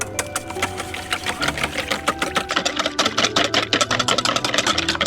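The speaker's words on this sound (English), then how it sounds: "And then we're just gonna whisk this together." Omelette eggs mixed with food coloring are whisked in a bowl, giving a rapid, rhythmic clicking and whirring that grows louder and busier partway through, close up with no talking.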